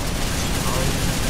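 Dense, continuous gunfire and explosions fill the scene while players shoot down helicopters in Resident Evil 6, a steady loud barrage with no clear pauses.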